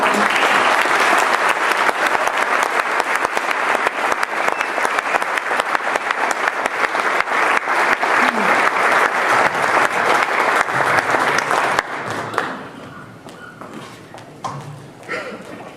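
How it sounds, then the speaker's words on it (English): An audience at the Beaumont, California State of the City event, hosted by the Chamber of Commerce, gives Mayor Mike Lara a loud, sustained round of applause lasting about twelve seconds, then it quickly thins out as a voice begins speaking. "give a big round of applause for our mayor"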